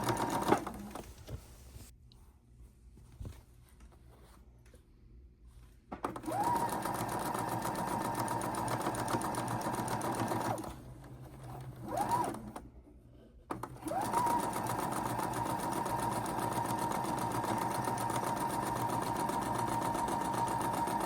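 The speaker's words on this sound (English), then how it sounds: "We're choosing our blocks that we want to sew together." Sewing machine stitching fat quarter quilt blocks together, a steady close hum in long runs broken by short pauses between seams.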